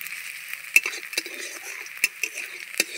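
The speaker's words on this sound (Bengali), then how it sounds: "পেঁয়াজটা হালকা একটু লাল লাল হয়ে আসার পর দিয়ে দিচ্ছি এবার রসুন কোড়া।" Grated garlic frying with browned onion in a pan, a continuous hiss of sizzling punctuated by sharp utensil scrapes and clinks against the pan at irregular intervals, close and clear without speech.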